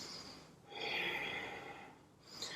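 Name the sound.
deep breathing during yoga triangle pose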